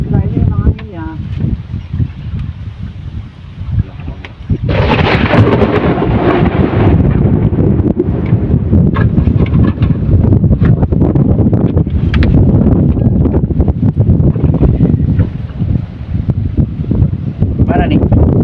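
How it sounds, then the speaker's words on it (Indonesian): Strong wind batters a small boat on open water, a loud, close, roaring rumble with gusty buffeting against the microphone throughout. People talk over the wind. "Nah ini memang anginnya."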